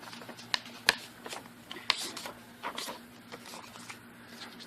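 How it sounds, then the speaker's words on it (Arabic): Half an A4 sheet of paper being folded by hand, a few sharp crinkles and creases over soft rustling, close and fairly quiet, with no speech. "فالفكره دي هاخد نص ورقه A4 واطبقها بالطريقه دي"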